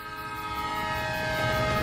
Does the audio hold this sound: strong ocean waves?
no